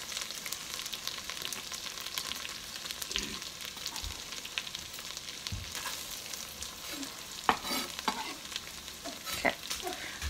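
Carrots and celery frying in a pan for a turkey pot pie, a steady close sizzle with occasional stirring clatters and light knocks, and no talk.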